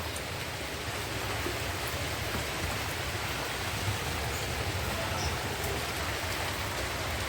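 Steady monsoon rain falling in rural Odisha, a dense even hiss of drops on surfaces throughout, moderate and unbroken, with no voices.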